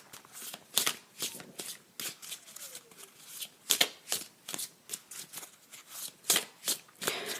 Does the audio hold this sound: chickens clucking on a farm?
no